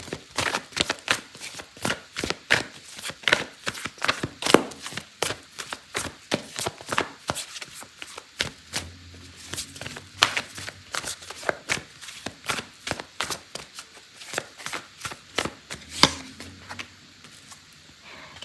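Oracle cards are shuffled for a love tarot reading, producing a long run of quick, crisp riffling and slapping bursts at close range, irregular in rhythm and with no talking over them.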